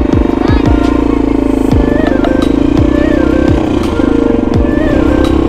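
Motorbike riding on a road, its engine loud and close with a steady chugging drone and rattles, and quick revving swells.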